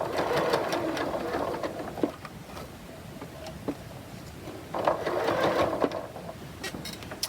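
Sewing machine stitching rows of quilt fabric, running in two steady buzzing bursts with a quiet pause between, close and fairly loud with no talk.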